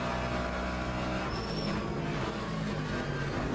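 A Mercedes race car engine in Le Mans Ultimate, with a steady, loud, droning roar held at a constant pitch and a thin whine above it throughout.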